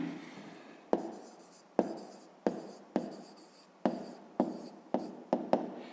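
Pen strokes scratch across paper while a maths exercise is worked out by hand: a soft continuous scribble broken by about eight sharp taps as the pen lifts and touches down, close and fairly quiet, with no voice.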